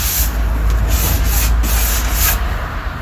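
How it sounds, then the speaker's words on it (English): Continuous close rubbing and scraping as hardened filler on a wooden display pedestal is lightly sanded by hand, with even strokes and no talking. "I'm just going to lightly sand it"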